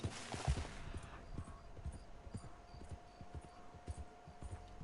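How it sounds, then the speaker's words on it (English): Horse hooves clip-clop in a steady, even rhythm in the video game Red Dead Online, moderately close with no talk over them. "Oh, that's a horse, that's a horse."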